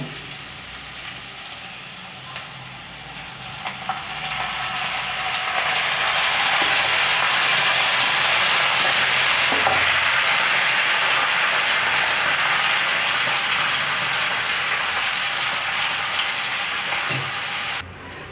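Curry leaves and spices fry in a pan before marinated chicken goes in for pepper lemon chicken: a continuous loud sizzling hiss that swells after a few seconds and holds steady, with occasional faint clicks and no speech.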